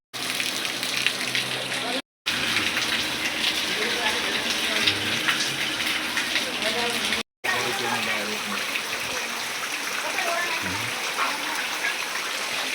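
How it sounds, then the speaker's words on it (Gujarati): Heavy rain pours in a dense, steady hiss close by in a village, with people talking over it and two brief cut-outs in the sound. "તો વરસાદ ચાલુ થઈ ગયો"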